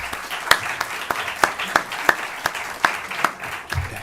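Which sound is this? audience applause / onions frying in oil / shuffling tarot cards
audience applause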